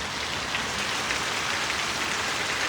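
Steady monsoon rain pours down during the sowing season on a farm in Gujarat, a dense even hiss of drops hitting the ground and surfaces, close and continuous with no speech.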